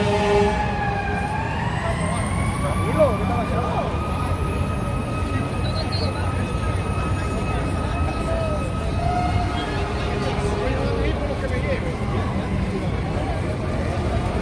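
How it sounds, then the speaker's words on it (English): A fire truck siren wailing through a busy Times Square street in New York at night, long sweeping tones rising and holding over steady crowd and traffic noise, with voices chattering throughout. "There's a fire truck."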